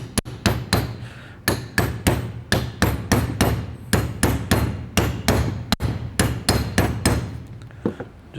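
Steel hammer striking a torsion key bracket on a 2020+ GM 2500 truck during a 6.5-inch lift kit install, about twenty sharp metallic blows in an uneven rhythm, loud and close, with no voices.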